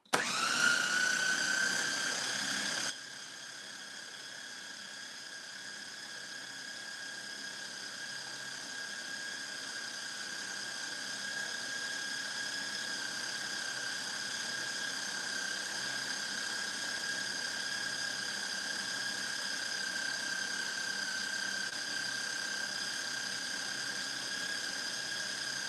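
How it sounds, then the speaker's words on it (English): A blender grinds almonds into almond butter with a sustained high whine. A louder burst opens it, then it settles into a steady drone that swells slightly midway, with no talking. "we've been blending for 15 minutes and we got a nice little paste"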